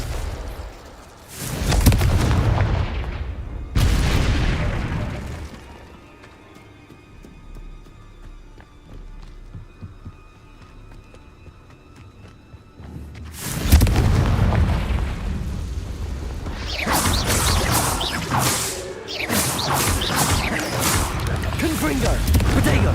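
Confringo spells set off fiery blasts in Hogwarts Legacy, with loud bursts near the start, a quieter rumbling lull, then a dense run of repeated explosions. A voice speaks in between.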